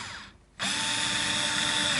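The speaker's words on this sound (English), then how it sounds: "put a couple of screws in temporarily." Power drill driving worn pickguard screws into a Westone Concord II guitar, a steady high whine that stops briefly, then resumes and holds, loud and close.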